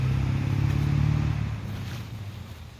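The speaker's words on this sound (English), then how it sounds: "Sorry about the traffic noise." Road traffic passing near a tarp campsite on the Appalachian Trail, a loud engine rumble from a passing vehicle that fades away after the first second and a half, leaving a softer background wash.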